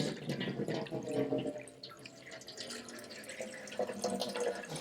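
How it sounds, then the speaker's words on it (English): Water sample poured through a micro sieve while sampling for microplastics on a coastal site: a steady close trickle and splash of liquid running through fine mesh, continuous for several seconds with small dripping variations and no voices. "So we sieve it using the micro sieve as we have."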